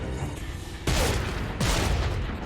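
Gunfire in the Xbox 360 video game Gears of War 2: two loud, sharp bursts of shooting about three-quarters of a second apart, each with a booming tail over constant game background noise.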